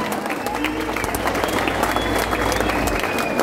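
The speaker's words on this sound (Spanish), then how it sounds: "Un fuerte aplauso para él." A theatre crowd at a live rock recital in Buenos Aires claps and cheers loudly and continuously, dense sustained applause filling the room, with a voice faintly audible through it.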